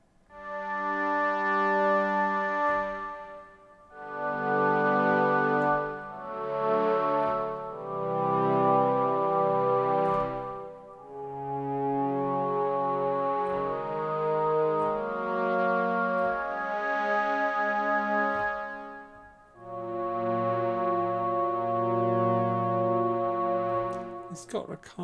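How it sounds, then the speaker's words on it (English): A wavetable pad patch on a Novation Peak synthesizer plays sustained chords with a soft, slightly vocal, organic tone, changing in several long held swells with brief dips between them and no talking. "it's a patch that I've set up that gives me a sort of a nice sort of pad kind of sound"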